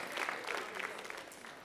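Students applaud helpers at a school Writers Week event, a short burst of dense, steady clapping from a seated audience with no talking over it.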